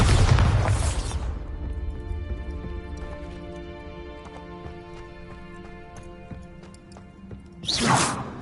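Bombarda blasting spell in Hogwarts Legacy: a loud rushing blast at the start that decays into a ringing, tonal tail, followed by another whooshing burst near the end.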